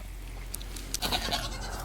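A goat in a farm herd gives a short, moderately close bleat partway through, set against a low steady background hum with faint rustling before it.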